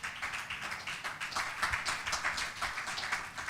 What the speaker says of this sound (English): that's the round of applause